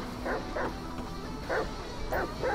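Chop the dog in Grand Theft Auto V barks several times in short, punchy bursts with uneven gaps between them. A steady in-game background hum sits underneath.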